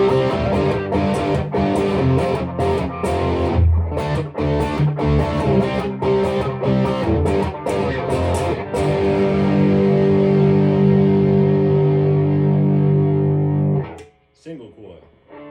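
Fender Stratocaster with a Seymour Duncan JB bridge humbucker played through the ultra gain channel of a Marshall DSL-1, heavily distorted chugging and sustained chords, loud and continuous before cutting off, then a brief quiet strum.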